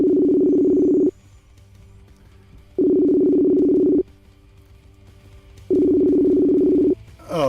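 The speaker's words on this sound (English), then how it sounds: "ringing him right now." An outgoing telephone call rings back with three long, loud tone bursts at an even pace, each lasting about a second, separated by quiet gaps.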